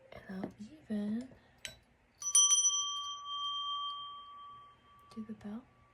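A bright bell is struck once and rings out with a long sustained tone, between bits of soft talk before and after.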